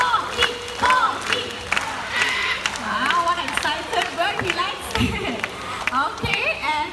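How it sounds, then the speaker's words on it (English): An audience at a bird park show claps and cheers for Tommy, a scarlet macaw, with bursts of applause and excited shouts mixed with crowd chatter and loud calls throughout. "So I want all of you to clap your hands and cheer for him just like me."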